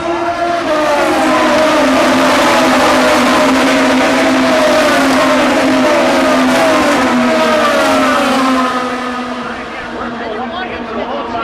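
IndyCar race cars scream past at high speed, a loud sustained engine whine with shifting pitch as several cars go by, fading slightly at the end, under a commentator's voice.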